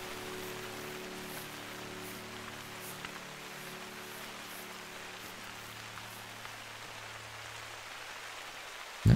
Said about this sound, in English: Oh, there's rain.